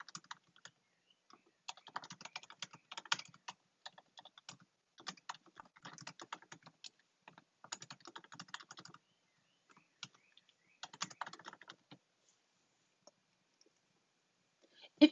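Code is typed on a computer keyboard in quick bursts of clicky keystrokes, broken by short pauses, close and fairly quiet in an otherwise silent room.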